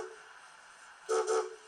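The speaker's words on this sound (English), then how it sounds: "we've now got the chime whistle that some of the locos had in preservation" A Black 5 steam locomotive model's sound decoder sounds its chime whistle: two short, bright toots in quick succession over a low, steady idling hum.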